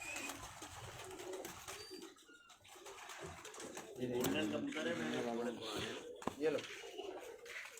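Dab walay and Missay fancy pigeons coo in low, rolling calls in Karachi, steady beneath men chatting close by, with a brief sharp knock near the end.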